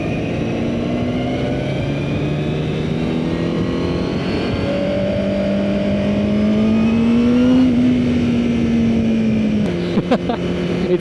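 Honda CBR1000RR-R Fireblade superbike on a race track, its engine note droning steadily and rising in pitch as it builds revs, loud and close throughout with a brief shift near the end.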